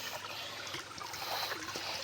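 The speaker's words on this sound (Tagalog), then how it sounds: "Ganyan po kalakas yung bukal dyan." Clear spring water trickles steadily from a natural spring on a farm, a soft continuous dribbling and bubbling close by, with no voices over it.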